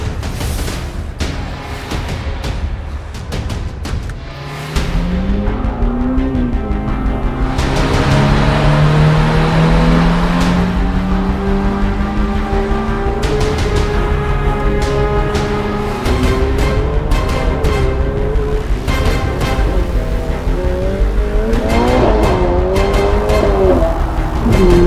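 A Ferrari F8 Spider with its V8 engine drives on a public road, loud and close, the engine revving and climbing through gears with rising and falling pitch sweeps, no voices present.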